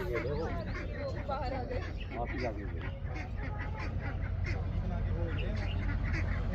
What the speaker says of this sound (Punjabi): ਦੇਖੋ ਕਿੰਨੇ ਪੰਛੀ ਸੋਹਣੇ ਨੇ ਇੱਥੇ